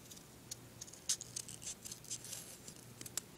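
Scissors snipping through a fake nail cutout in several quick, light cuts, close and quiet against a faint background hum.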